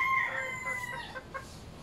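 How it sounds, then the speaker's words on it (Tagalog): A tethered chicken crows and clucks in a rural yard, close and clear, with a short crowing call followed by a few sharp clucks and no talk. "Kumakakak ang manok dito."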